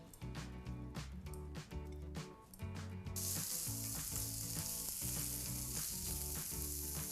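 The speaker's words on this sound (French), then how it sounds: "nous allons faire sauter nos lardons quelques secondes dans une poêle bien chaude" Bacon lardons sizzling in a very hot frying pan, a loud, continuous crackling hiss close by that grows fuller and more intense partway through, with scattered pops and stirring sounds.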